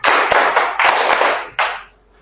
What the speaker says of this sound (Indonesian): tepuknya 4 kali aja